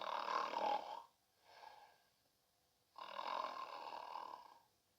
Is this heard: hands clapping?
no